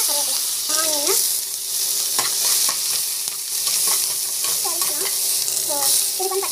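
Green chillies, curry leaves and onion sizzle steadily in a hot pan of oil, with intermittent spoon scrapes and stirring clatter over the continuous frying hiss.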